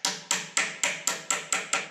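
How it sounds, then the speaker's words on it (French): A hammer strikes a wood offcut block set against a wooden towel-rack piece, eight sharp knocks in an even, quick rhythm, each a crisp near crack that dies away fast. "Le bois est tapoté avec un marteau et une chute de bois"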